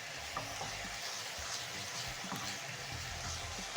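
Onions frying in a pan while being stirred in with salt and black pepper, a soft steady sizzle with gentle scraping of the spoon, close but fairly quiet and without talk.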